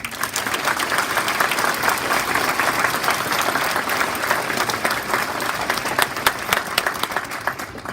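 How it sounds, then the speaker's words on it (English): Graduation audience at St. James Collegiate applauding the school staff, a dense, steady ovation of many hands clapping continuously and loudly for the whole stretch. "Graduates, please join me in a well-deserved round of applause for the staff"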